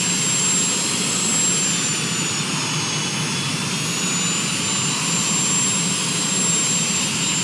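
A jet-powered aircraft taxis toward the runway at LSGK, its engines whining in a loud, steady drone with high tonal hums, heard from close by without any talk.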